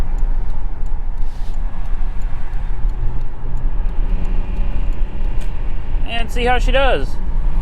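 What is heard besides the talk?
VW Jetta VR6 driving on the highway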